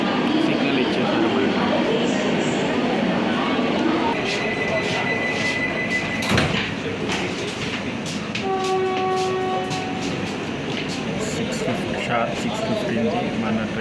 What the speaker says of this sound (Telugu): మన ట్రైన్ సికింద్రాబాద్ ప్లాట్ఫామ్ నెంబర్ 1 నుంచి బయలుదేరి